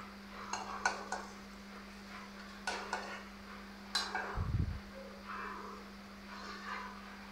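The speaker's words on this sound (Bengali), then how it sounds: "শাকটা এই তো আমি এখন ভালোভাবে মিশিয়ে নেড়ে চেড়ে একটু ভেজে নিব" Radish greens with garlic and dried chilli are stirred in a pan, giving a few sharp utensil clinks and scrapes against the metal over a faint background hum, quiet between strokes.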